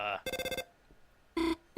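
A phone rings in the video game Deltarune Chapter 4, with bright electronic trilling bursts: a short tone, a rapid pulsing ring, a pause, then another ring and the start of a third, clear and close.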